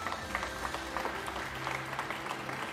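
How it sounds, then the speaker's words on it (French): A church congregation at an Easter service claps together, a steady moderate patter of applause with a faint low hum beneath and no speech. "Est-ce qu'on peut applaudir ce que Dieu fait?"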